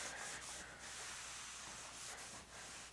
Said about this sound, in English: Just gonna dip that rag just enough to get it wet and start buffing out.